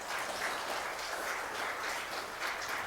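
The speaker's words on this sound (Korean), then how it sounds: "박수로 환영하겠습니다." Church congregation clapping to welcome a visitor during a Sunday service, a soft, steady patter of applause heard from a distance throughout.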